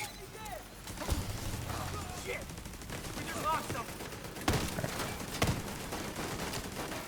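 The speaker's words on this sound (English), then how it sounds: "They shoot me with a whole turret." A turret in a video game fires repeated rattling gunshot bursts at mid distance, mixed under ongoing game noise and a voice talking.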